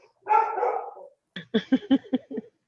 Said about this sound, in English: And him and Grace bark off of each other.